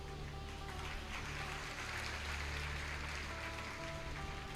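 A crowd gathered for a Hindu devotional discourse claps in a dense, continuous wash of applause that stays steady and fairly loud throughout, with a low electrical hum underneath.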